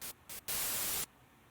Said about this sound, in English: it's going to give you a static noise, and then you just want to record some of that noise.